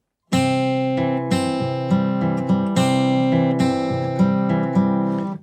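Fingerstyle guitar played alone in a steady fingerpicked pattern at a slightly quicker tempo, the bass and treble strings rolling one after another in clear, ringing repeated cycles with no talking.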